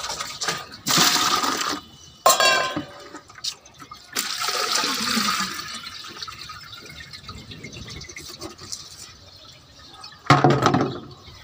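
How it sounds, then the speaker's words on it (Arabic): Water poured into a plastic bucket to rinse out homemade compost, several short splashing bursts with a longer swirling pour and a final splash, close and fairly loud. "هدلق فيه شوية مية كده"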